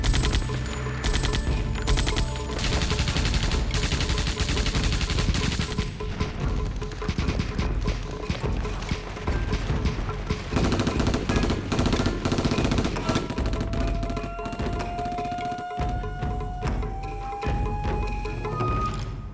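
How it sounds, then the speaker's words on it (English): Heavy machine gun fire pours down from entrenched Chinese positions on Hill 467 in Korea, dense loud bursts of rapid shots and crashing impacts running nearly continuously, with a rising whine near the end. "they come under heavy machine gun fire from well-entrenched Chinese positions."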